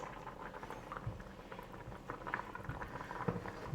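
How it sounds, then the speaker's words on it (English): Butter chicken sauce with added cream simmers in a pot, giving a soft, steady bubbling and popping patter, close up and quiet, with no voices. "Bring this to a simmer, and we're gonna simmer for about 5-10 minutes until it thickens a bit."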